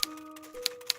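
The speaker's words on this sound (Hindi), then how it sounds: "ये तो टाइपराइटर की आवाज है।" A few sparse typewriter keystrokes click out against a steady sustained musical tone that shifts pitch partway through. The clacks are distinct, but spaced apart rather than continuous typing.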